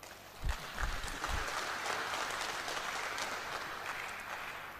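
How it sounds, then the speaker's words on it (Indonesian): Audience applause at a university graduation ceremony: a steady wash of clapping from a large hall crowd, with a few louder nearby claps early on and no speech over it. "Tepuk tangan."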